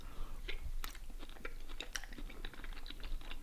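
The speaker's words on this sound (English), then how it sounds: "I'm gonna try the stroganoff bite with some pheasant." A bite of pheasant stroganoff chewed close to the microphone, soft wet crunches and smacks in an irregular rhythm, quiet with no talk.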